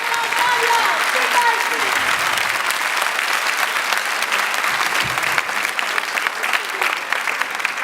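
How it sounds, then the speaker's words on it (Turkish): Sustained crowd applause at an anniversary celebration concert in Antalya, offered for the volunteers of a petition signature campaign. The clapping is dense and steady from start to finish, with a few louder individual claps near the end. "Ayrıca bu kampanyada görev alan arkadaşlarım için bir alkış rica ediyoruz"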